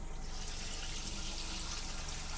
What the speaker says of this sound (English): Aerator. You can hear that firing off